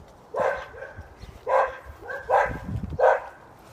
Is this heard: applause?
no